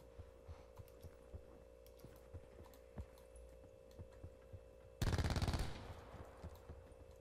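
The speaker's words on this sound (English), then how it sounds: "Were you shooting at somebody or no?" Automatic gunfire in Call of Duty Black Ops 4 Blackout: a short, loud burst of rapid shots near the end that fades quickly. It follows quiet game ambience with soft, regular ticks, and no one talks over it.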